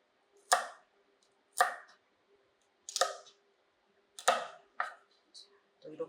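A kitchen knife cutting vegetables such as carrots into sticks on a cutting board for minestrone soup: six or seven crisp, separate chops roughly a second apart, close and clear against a quiet background.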